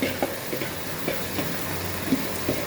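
Marinated mutton frying in a pan with onion and tomato, a steady broadband sizzle with small irregular pops and crackles, moderately loud and close, with no voices.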